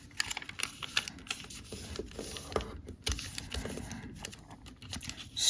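Crisp paper crackles and soft creases from origami paper being folded by hand, near and fairly quiet, in irregular bursts throughout.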